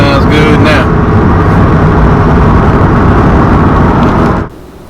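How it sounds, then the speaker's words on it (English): A Corvette with a modified exhaust rumbles loudly and steadily with a deep, throaty note, holding strong for about four seconds before cutting off abruptly. "now that the exhaust is done, the Vette sounds really good right now"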